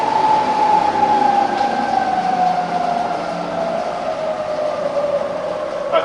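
A rebuilt Bridgeport milling machine runs at its top spindle speed with a loud, steady motor whine whose pitch sinks slowly, over a constant mechanical hum.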